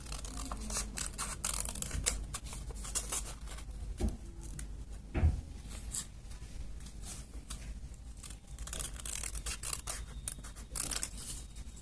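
Scissors snip through black paper while cutting out a sketched eye design for a handmade 3D paper Deadpool mask, a steady run of close, crisp cuts and rustles with a couple of sharper clacks.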